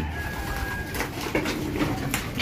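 Racing pigeons coo softly in a loft, a few low murmuring calls over faint background rustle and ambient noise.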